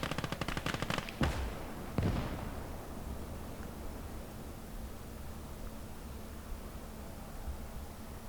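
Gunfire from a gun emplacement in the Gates of Hell strategy game: a rapid automatic burst at the start, two sharper shots with decaying booms, then a steady wash of distant battle noise.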